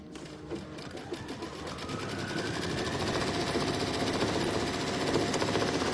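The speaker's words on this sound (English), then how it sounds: "we are going to stitch the quilting" A sewing machine runs steadily while stitching a quilting pattern on a wallflower quilt block, a close, continuous mechanical whir that swells slightly louder over about six seconds with no talking.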